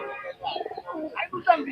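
Pigeons cooing at a busy pigeon market in Gollamari, Khulna, with soft coos and chirps mixed into nearby people talking.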